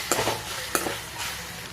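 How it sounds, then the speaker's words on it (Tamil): Chopped vegetables with onion and tomato are stirred in a hot pan for vermicelli biryani, giving soft sizzling with a few quick scraping stir strokes, faint and close. "அதுக்குள்ளே கொஞ்சம் காய் நல்லா வதக்கிக்கோங்க."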